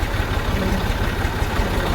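A tractor engine runs at a steady idle, a loud, close low rumble with even rapid pulsing throughout and no talk.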